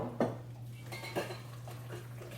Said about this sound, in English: we'll mix that in. Get ourselves to more of a batter.